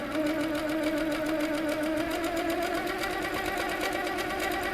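Handi Quilter Sweet Sixteen quilting machine stitching with its top tension set too tight, a steady, close, continuous mechanical whir and rapid needle chatter running unbroken throughout, with no talking.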